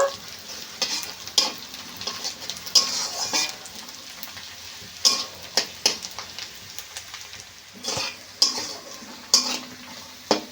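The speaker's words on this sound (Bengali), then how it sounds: "দিয়ে দেবো রসুনটা আবার একটু বেশ তেলের সঙ্গে ভালো করে ভেজে নেব" Finely chopped garlic fries in oil in a pan, giving a soft continuous sizzle broken by frequent sharp scrapes and clinks of a spatula stirring, close and fairly quiet, with no talking.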